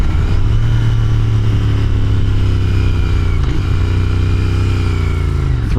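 A Royal Enfield Continental GT 650 motorcycle under way, its engine droning loud and steady throughout with a low throbbing note and slight shifts in pitch as the throttle changes.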